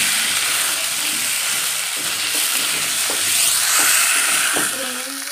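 Garlic-ginger paste and chopped tomato hiss loudly in a hot pan, a close, steady sizzle with a few spatula knocks and scrapes and a brief steamy swell midway.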